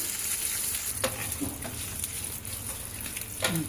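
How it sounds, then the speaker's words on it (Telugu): Green chillies and curry leaves fry in oil with a soft, continuous sizzle, marked by a few brief stirring clicks and scrapes. "పచ్చిమిర్చి మంచిగా వేగాలి."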